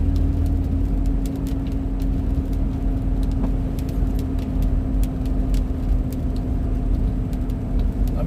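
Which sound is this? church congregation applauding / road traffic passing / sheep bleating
road traffic passing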